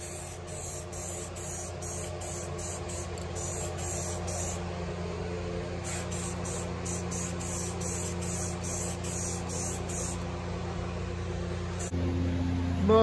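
A front bumper swapped from an Escalade onto a Chevrolet Silverado is spray painted, with repeated short bursts of spray hiss over a steady background hum, followed by a longer continuous spray.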